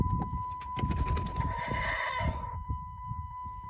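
Chickens cluck and squawk in a noisy flock close by, with a brief louder crowing call rising over the busy clatter.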